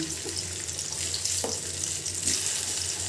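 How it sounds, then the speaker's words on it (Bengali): Thin banana slices frying in a pan of oil, a steady bright sizzle with faint clinks as the pieces are turned, continuous and close. "এভাবে কলাটাকে উল্টিয়ে দেবেন, এরকম"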